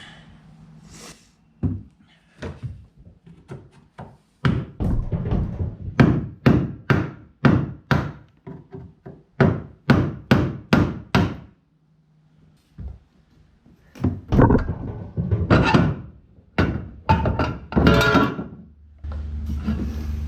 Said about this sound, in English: you go through with an ice pick and a hammer and just pop out the rest of the rivet